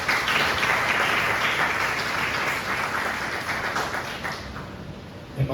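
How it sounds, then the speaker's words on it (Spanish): A church congregation applauds at a sermon, dense steady clapping that fills the space for several seconds before thinning slightly near the end. "Denle un fuerte aplauso al Señor Jesucristo"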